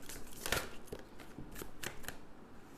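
A deck of tarot cards is shuffled up close, giving a run of papery riffles and soft slaps in an uneven rhythm with no voice over it.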